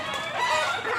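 Soft clucking of a chicken, a short burst of busy mid-pitched hen chatter, moderately close and steady with no talk.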